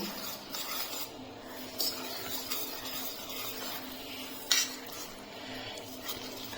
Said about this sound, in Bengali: এখন আমি একসঙ্গে ভালো করে মিশিয়ে নেব